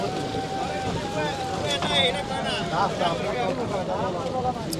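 A passenger trawler boat on a river rumbles with wind and water noise as people board, and voices talk over it throughout.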